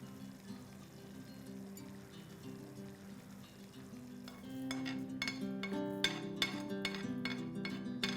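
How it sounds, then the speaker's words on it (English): Masala for an egg curry bubbling and frying in a pan over a medium flame, a soft low sizzle that later picks up with spoon scrapes and clinks against the pan, all fairly quiet with no voices. "allow this to cook on medium flame till the oil starts releasing from the sides of the pan"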